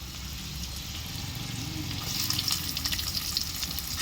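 Onions sauté in oil for a fish curry, a steady close sizzle that grows louder and crackles more sharply halfway through as they are stirred.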